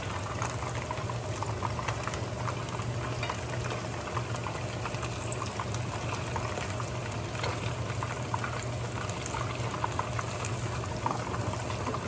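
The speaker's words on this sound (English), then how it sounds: "you can see that my broth is also boiling" Fish soup broth at a rolling boil in a pot on the stove, a steady close bubbling and simmering hiss that holds evenly throughout with no talking.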